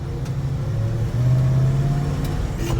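A 1969 Ford Highboy truck driving on the road, its mid-pitched engine droning steadily and rising in tone as it pulls through a gear change, heard from inside the cab with no talking.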